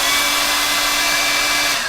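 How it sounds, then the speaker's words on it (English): A handheld hair dryer blows steadily at one of its settings, a loud, continuous close-up whoosh with a faint motor whine and no pauses. "if you've got a hairdryer, and I know you all giggle at my girly hairdryer, but it does work, you've got a couple of settings"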